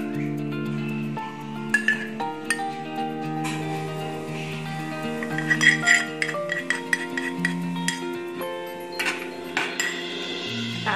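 Butter is stirred in a bowl for a Black Forest cake, giving a run of clinks and scrapes of a utensil against the bowl over a steady musical background, with no talking.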